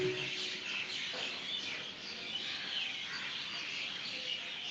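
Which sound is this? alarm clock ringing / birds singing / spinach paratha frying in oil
birds singing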